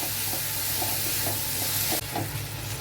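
Spices and a rohu fish head sauté in oil for muri ghonto, producing a loud, steady sizzle with rhythmic stirring scrapes and a slight shift near the end.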